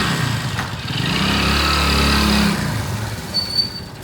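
Motorcycle engine running steadily at close range, its low rumble swelling in the middle and then easing off, with a brief high whine near the end.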